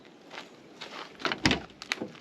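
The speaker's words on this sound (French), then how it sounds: "Même le bruit des portes, c'est marrant parce que aujourd'hui elles font plus de bruit. On reconnaît de suite une 104 quand on ouvre les portes." Doors of a 1981 Peugeot 104 ZS being opened and shut after a full restoration, giving a few soft latch clicks and thunks that build to a firmer close, heard fairly near against a quiet background.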